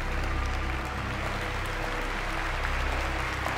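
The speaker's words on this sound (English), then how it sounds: "So we can go back to our thunderous applause for whatever it is we did." Thunderous applause fills the scene in the video game Virginia, a dense, steady wash of clapping from a crowd with no talk over it.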